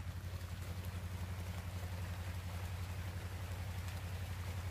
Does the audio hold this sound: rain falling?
yes